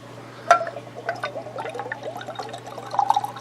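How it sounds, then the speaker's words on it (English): Hillrock single malt whiskey poured into a glass, a soft trickling liquid pour with small splashes and drips, close and fairly quiet, with no talking. "let's get our pour on."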